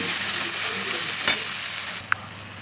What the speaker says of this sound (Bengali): তেলের মধ্যে লঙ্কা গুঁড়োটা দিয়ে দিয়েছি